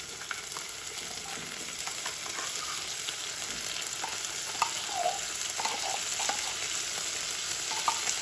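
Corned beef fries in a pan with a continuous close sizzle, broken by light scraping and stirring clicks scattered throughout.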